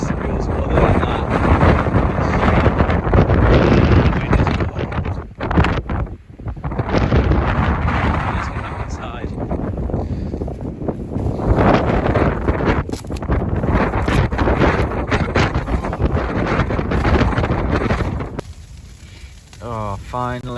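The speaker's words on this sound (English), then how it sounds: "There you go, that's the gust I'm talking about." Powerful wind gusts roar and buffet a tent pitched for a winter storm camp in Snowdonia, with 60mph winds, snow and hail; loud, broadband rushing surges in long waves with brief lulls, close to the microphone.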